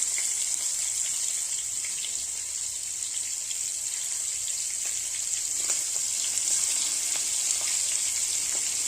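Onion fries with eggplant in a hot pan, giving a steady, even sizzle with scattered small pops and crackles, close and continuous with no voices.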